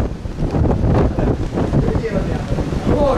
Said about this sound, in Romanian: bate tare vântul